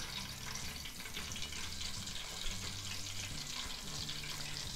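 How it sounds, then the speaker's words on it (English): Floured chicken wings fry in hot oil for honey garlic wings, giving a steady, close hiss and crackle that fills the whole stretch with no talk over it. "Put it in the oil. Nice and hot."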